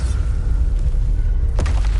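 Bombarda explosion spell in Hogwarts Legacy: a single deep booming blast rumbling under a dense background, with a sharp burst near the end.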